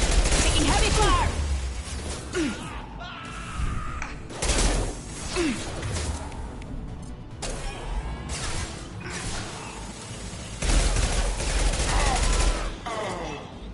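Heavy gunfire in Mass Effect Legendary Edition, with loud overlapping bursts of shots and crashes spread across the scene while voices call out between volleys.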